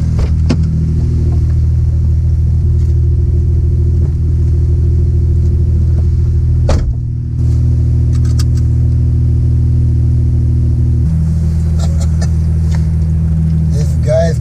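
A tuned Porsche 911 engine drones at steady loud volume throughout, a deep rumbling note that shifts pitch around the midpoint and later, suggesting revving, with voices talking faintly over it.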